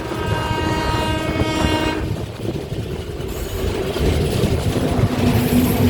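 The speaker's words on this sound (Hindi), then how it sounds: "हमारी ट्रेन घोड़ाडोंगरी रेलवे स्टेशन के यार्ड में पहुंच गई है।" A passenger train rolls into the Ghoradongri railway station yard, its horn sounding loud and sustained at first before giving way to a steady rumble and rattle of wagons on the track.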